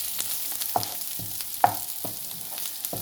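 Gnocchi and herbs frying in a pan, a steady close sizzle broken by regular scrapes and taps of a spoon being stirred through the food, roughly one stroke every half second.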